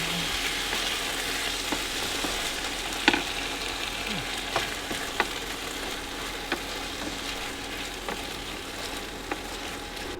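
Ingredients for a risotto frying in a pan inside a camper van, a steady close sizzle with occasional clicks and taps of stirring, no voices.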